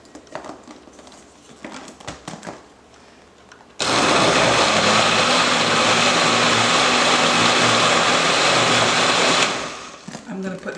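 A kitchen blender whirs loudly as it blends apples and water into applesauce for baby food. A steady, roaring whine starts abruptly after quieter sounds and a voice, runs for about six seconds, then winds down.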